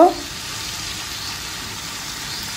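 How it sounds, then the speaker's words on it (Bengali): Onion, mustard paste and green chili masala sautéing in oil for Bangladeshi mustard hilsa, a low, even sizzling hiss that holds steady and quiet throughout, with no clear stirring strokes. "তো আমি মশলাটা দিয়ে এখন সুন্দর করে একটু কষিয়ে নিব।"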